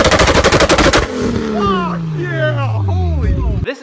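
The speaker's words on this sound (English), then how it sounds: "Anti-lag is what I have on my Supra and is what causes this." Rapid, loud, crackling bangs from the anti-lag system on a Toyota Supra, firing in a tight burst for about a second before giving way to a falling engine tone and voices talking.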